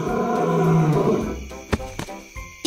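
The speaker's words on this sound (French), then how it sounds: "Soudain, Mali, le lion, apparaît." A lion's roar used as a sound effect in a children's bedtime story, one loud, deep, rumbling roar that fades into a few scattered knocks and thumps.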